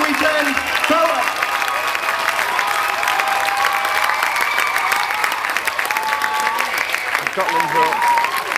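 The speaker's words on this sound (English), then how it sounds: "please give a massive round of applause to Linda Wires and everyone that has arranged this wonderful festival" Festival comedy audience applauding and cheering loudly and steadily throughout, with whoops over dense clapping and a speaking voice briefly audible near the start and end.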